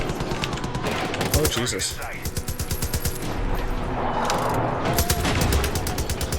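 Loud, sustained machine gun fire in the video game Far Cry 5, fast rattling bursts nearly continuous through the clip with heavy low thumps, while a man briefly exclaims over the shooting.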